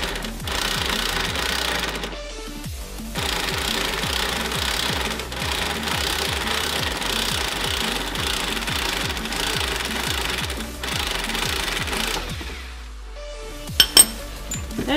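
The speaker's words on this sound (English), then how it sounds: "We're gonna be loosening it with the gun, and get your wrench and pry on it while you loosen." An impact gun loosens a strut bolt on a Subaru Legacy, hammering loudly and close in a rapid, sustained rattle that runs for many seconds, stops briefly, then resumes, with a couple of sharp metallic clinks near the end.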